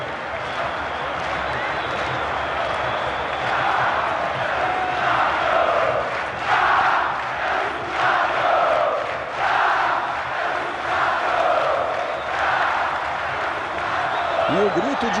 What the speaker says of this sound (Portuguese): a torcida do Botafogo, enfim, soltando um grito mais forte de é campeão e fazendo a festa no Maracanã